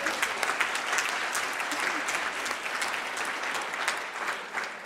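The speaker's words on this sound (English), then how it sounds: "you can clap for him" An audience applauds at a health economics session of the World Health Assembly, a steady wash of many clapping hands lasting several seconds at moderate level with no speech over it.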